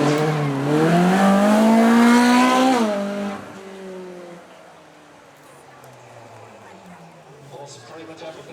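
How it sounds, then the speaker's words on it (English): Naturally aspirated supercar engine at a supercar weekend show, revving up loudly and rising in pitch, then dropping away as it passes and fades into the distance, with a voice speaking over it. "there is something rather special about natural aspiration, just like this"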